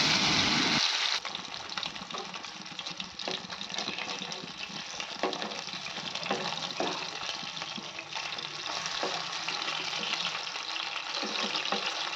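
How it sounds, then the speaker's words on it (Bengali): Steady sizzling and crackling of amudi fish frying in hot oil over a medium flame, continuous and close, with small pops scattered throughout. "এখানে আমি মাছগুলোকে মিডিয়াম ফ্লেমে দিয়ে ভাজছি।"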